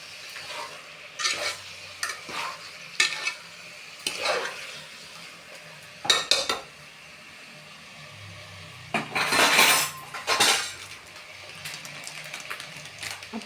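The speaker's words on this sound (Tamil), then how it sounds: "இப்போ மொத்தமாக நம்ம நல்லா கிளறி விட்டுக்கலாம்." Chicken biryani with biryani masala, turmeric and rock salt is stirred in a pot, a ladle scraping and clinking against metal in irregular bursts over a faint sizzle.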